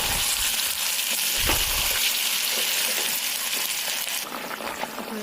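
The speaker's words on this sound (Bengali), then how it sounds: "এবার আমি জল দিয়ে দিব গরম জল" Hot water poured into chicken curry frying in a pan: a loud, dense sizzle and bubbling hiss throughout, with a brief deeper gush of splashing early on before the steady crackle continues.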